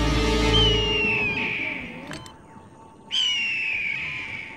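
A bird calls in a cartoon scene, with two bright whistled calls, the second following a short gap after a brief sharp click.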